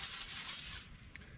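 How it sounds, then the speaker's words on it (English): Cooking oil sprays onto a pan at a camp stove setup in a short, steady hiss lasting under a second, then fading to quiet with a faint click. "Give it a quick spray."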